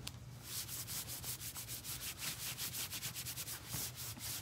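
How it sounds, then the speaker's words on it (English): A squeegee rubs down a stencil on fabric for a grocery tote, giving steady repeated scraping strokes in a quick, even rhythm, close and moderately loud with no voices. "I'm gonna use my new squeegee and make sure that rubs down really good on that fabric"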